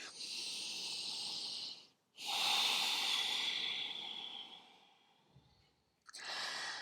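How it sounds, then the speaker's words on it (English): Deep, slow breathing during a yoga flow, with long airy inhales and exhales close to the microphone, two full breaths separated by a brief silence and a third beginning at the end. "And breathe into the back."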